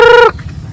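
A single short, loud harmonic squawk from a chicken, then quiet background rustle.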